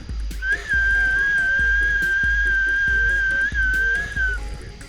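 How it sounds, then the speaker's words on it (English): A loud, sustained whistle of air escaping from a scuba tank at a steady high pitch, wavering slightly, lasting about four seconds under a low background rumble. "That's the whistle you can get from this tank."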